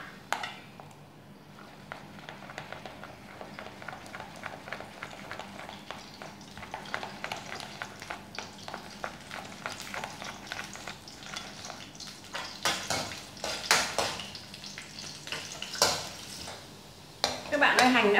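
Shallots fry in a pan while utensils clink and stir against a pot nearby, a steady soft sizzle under repeated tapping and scraping that grows busier toward the end.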